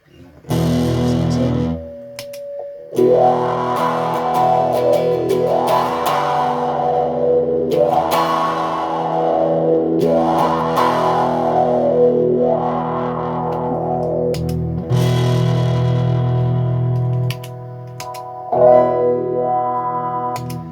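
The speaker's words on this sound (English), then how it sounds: "the fuzz pedal going to the Q zone shenanigan, and then back to the amp again" Fuzzy, distorted electric guitar played through a fuzz pedal and filter, with a sweeping filter effect, the tone swelling and falling in slow repeated waves over sustained chords.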